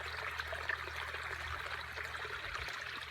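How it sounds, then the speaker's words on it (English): Thin trickle of water running into a tree watering bag, a faint, continuous gentle splashing and dribbling outdoors with no talk. "while I'm waiting for my tree bag to fill with the trickle of water"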